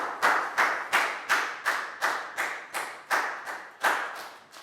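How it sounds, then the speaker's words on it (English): Classroom applause for a student: about a dozen sharp, evenly spaced claps in a steady rhythm, close and fairly loud, with no voices. "High five, big round of applause for Lackow, guys."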